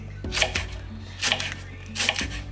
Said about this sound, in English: I'm slicing this roughly because I'll be blending.